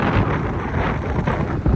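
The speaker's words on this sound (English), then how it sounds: "it's so windy" Strong wind blowing outdoors outside a boutique, roaring and buffeting steadily against the microphone with a dense, continuous rumble and no voices.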